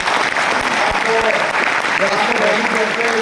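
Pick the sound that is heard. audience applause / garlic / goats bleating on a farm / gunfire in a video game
audience applause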